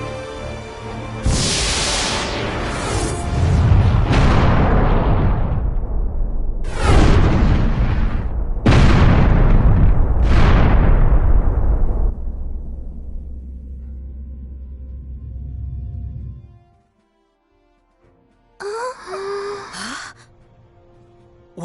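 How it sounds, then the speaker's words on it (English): Heavy booming blasts of incoming fire from an enemy ship in Star Ocean: The Last Hope, several loud explosions in quick succession rumbling into a long low roar that fades out, followed by a brief electronic whoosh. "Incoming fire from the unknown vessel."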